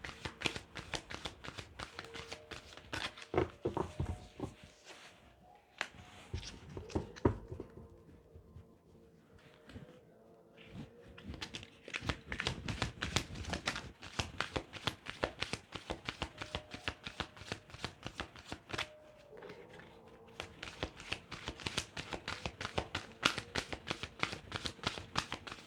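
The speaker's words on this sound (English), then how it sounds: "Okay, one more shuffle." Oracle cards being shuffled by hand in repeated bursts of crisp riffling and flicking, fairly close and moderately loud, with brief pauses between rounds and no talking.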